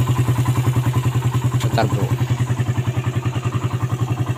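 A Suzuki Satria FU motorcycle, its starter button bypassed by wiring the socket directly, runs with a steady, rapid idle pulse, loud and close, while someone briefly speaks over it.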